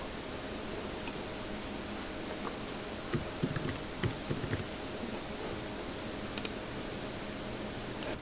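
Computer keyboard typing on a Mac, a few short bursts of soft key clicks near the middle and end over a steady background hiss, no talking.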